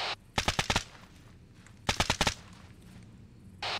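Automatic gunfire during an ambush firefight in the military video game ArmA 3, two rapid bursts of about five close, loud shots each a second and a half apart, then a short third burst starting at the end.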